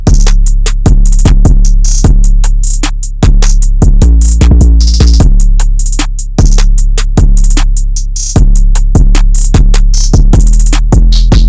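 A programmed trap-style beat from FL Studio, with hi-hats in bouncy rolls over deep booming bass hits and snare; the steady loud loop repeats in even bar-long phrases.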